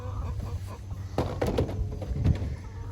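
Novogen hens cluck softly in a coop, with a few scattered low clucks and light shuffling close by, and no voices.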